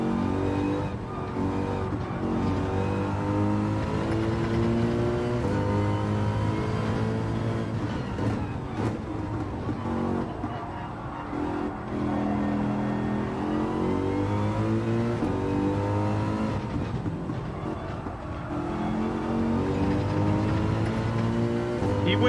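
A Honda NSX race car in Gran Turismo 7 roars at full throttle, its engine note climbing and dropping through repeated gear shifts, loud and steady throughout with no talk.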